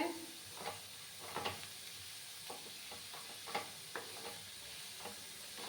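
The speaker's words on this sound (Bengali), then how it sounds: "ভাজা ভাজা করে তোমরা কোনো সময় কিন্তু তেল দিয়ে লাউটাকে ভাজবে না ঘি দিয়ে ভাজার চেষ্টা করবে" Grated bottle gourd frying in ghee for payesh, a quiet, steady sizzle and hiss with intermittent soft scraping stirs of a spoon in the pan, close and faint.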